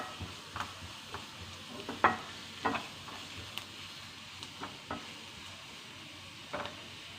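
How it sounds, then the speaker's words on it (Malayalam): Onions fry quietly in a pan for bread upma: a soft, low sizzle broken by intermittent spatula scrapes and stirring knocks, fairly faint and without voices. "ഉള്ളി നന്നായിട്ട് വാടണം."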